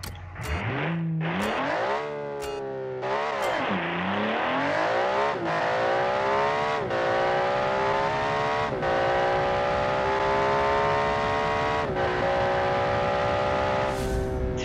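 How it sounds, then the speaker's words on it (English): A racing car accelerates hard in a video game, its engine revving through several rising gear changes, loud and continuous. "It's a racing car, by the way."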